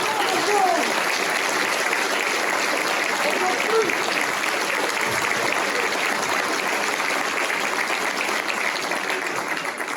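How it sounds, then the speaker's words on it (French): An audience applauds the technical team at a 2025 New Year's greetings ceremony in Templeuve-en-Pévèle, producing dense, sustained clapping that fills the whole stretch and fades slightly toward the end. "mesdames et messieurs, applaudissements pour toute l'équipe technique."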